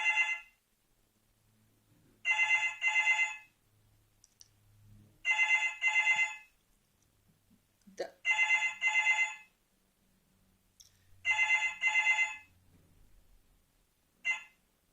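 A telephone rings in four bursts of a double-trill bell, spaced a few seconds apart, loud and close with near silence between the rings.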